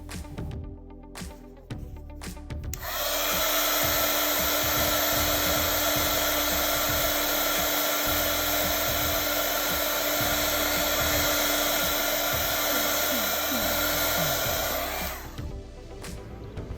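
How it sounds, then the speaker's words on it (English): A heat gun blows in a steady, loud, continuous whir for about twelve seconds while curing the final layer of epoxy on a rhinestone watermelon tumbler, with brief clatter before and after. "Don't forget to use your heat gun for this, as this is the final layer of epoxy."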